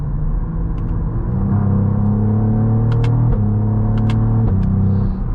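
A Cadillac CT4-V Blackwing's 3.6-liter twin-turbo V6 pulls hard under acceleration, a loud, steady engine drone rising through gears with distinct shift breaks, close and continuous with no talking.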